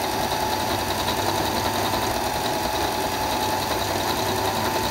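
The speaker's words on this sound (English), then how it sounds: "And then I'm going to sew" A sewing machine stitches a simple cloth face mask with a steady, fast, even hum that runs alone throughout.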